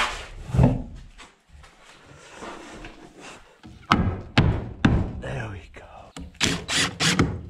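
A handful of sharp, irregular knocks of a hammer striking wood ring out close by during a barn build, with quiet talking in between.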